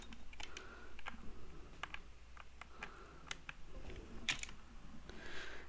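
A mechanical keyboard fitted with custom keycaps clacks under steady, irregular typing, a close string of sharp key strikes with occasional louder bottom-outs over a low hum.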